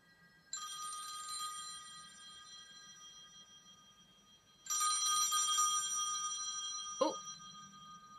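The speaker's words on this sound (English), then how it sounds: "Okay, phone call." A telephone bell rings in two clear bursts, each lasting over a second with a pause between them, loud and close with no talking.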